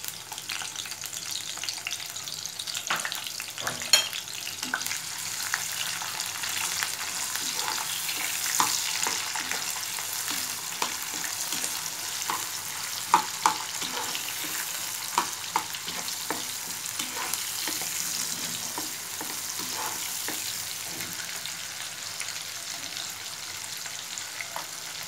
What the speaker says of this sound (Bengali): আমি পেঁয়াজটা দিয়ে দিচ্ছি।